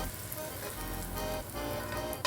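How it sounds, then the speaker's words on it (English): Steady crackling sizzle of onions frying in a hot pan, a continuous hiss with faint pops throughout and a sharper clatter at the end. "We're done frying"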